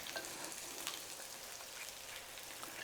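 Balsamic vinegar hitting a hot pan of onions gives a steady, soft sizzle and crackle, close and fairly quiet, with no talk over it.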